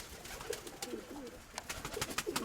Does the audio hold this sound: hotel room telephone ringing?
no